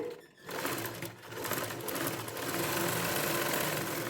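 A sewing machine stitches a folded edge of a baby frock, its rapid mechanical whir running nearly continuously up close, with a brief dip near the start before settling into a steady buzz.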